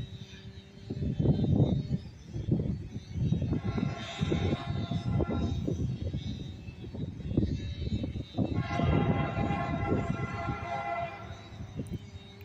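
A CSX freight train horn sounds in a few long blasts at a distance at Landenberg Junction, mixed with rumbling rail noise and occasional nearby voices.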